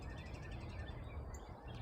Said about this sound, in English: It's either a cardinal or a red robin.